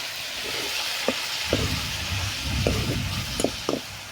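Banana flower (koldil) frying in a pan with onion, giving a soft, steady sizzle and a few sharp taps of stirring against the pan.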